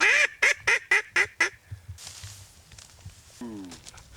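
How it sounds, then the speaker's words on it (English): A burst of six loud, rapid duck quacks close by on a waterfowl hunt, followed by quieter calls and a brief honking note from a goose, with faint background rustle. "Oh, with two little ducks."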